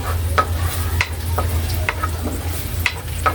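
Garlic sautéing in a pan for pansit bihon with sardines, with a steady soft sizzle, clicks of stirring and a low background hum, no talk.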